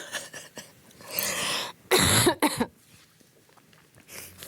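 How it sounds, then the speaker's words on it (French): A few harsh coughs in quick succession, close and fairly loud, with quiet pauses before and after. "Donc je vais tousser, 2 secondes."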